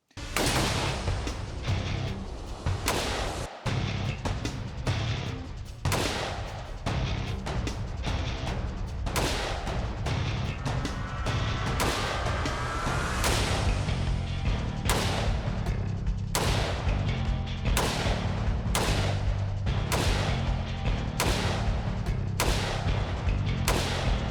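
Repeated loud rifle shots from CZ Bren 2 and AK-type rifles during military assault-regiment training, sharp cracks following one another steadily with short gaps throughout.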